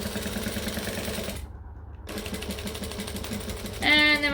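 Sewing machine stitching and back-stitching through thick vinyl on a pouch project, a steady mechanical whir with a short pause and then a louder, rapid burst of needle strokes at the end.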